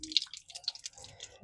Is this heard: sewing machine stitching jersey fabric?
no